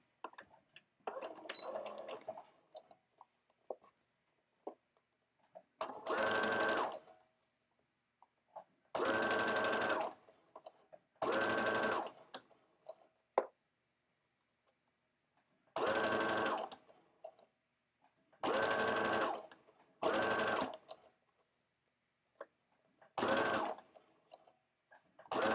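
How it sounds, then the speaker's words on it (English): A sewing machine runs a straight stitch seam in repeated bursts of rapid mechanical whirring, each lasting a second or two and separated by quiet pauses, close and clear, in a live sewing class. "Straight stitch, and then sew."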